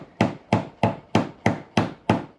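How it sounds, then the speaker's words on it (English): Seven evenly spaced hammer taps, roughly every third of a second, sound close and sharp as a piece is driven into its hole. Each blow ends in a short decay. "And then you just need a hammer."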